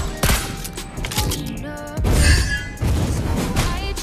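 Lesley fires her sniper rifle in Mobile Legends, several loud gunshot bursts with crashing impact effects and layered game sounds, dense and close with no speech.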